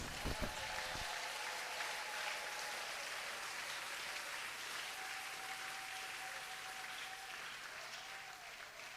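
A church congregation applauds steadily for several seconds, a broad sustained clapping that stays even throughout, with a faint tonal hum beneath and no talking.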